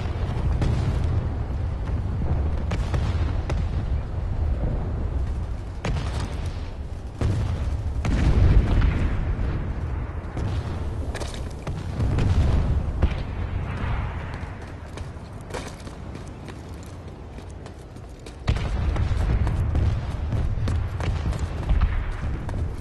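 Booming explosions and rumbling blasts from a generator being destroyed during a siege battle in Planetside 2, loud and dense with low-end rumble, swelling in several heavy bursts over continuous battlefield noise.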